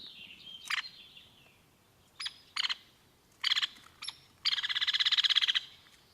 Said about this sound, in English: this is an example of their rattle call